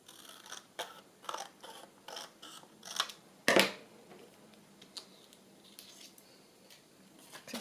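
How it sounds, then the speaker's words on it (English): Sharp scissors snipping paper to make journal cards, a run of crisp cuts in quick rhythm with one loud, close snip near the middle and softer cuts after it, no talk. "One more snip"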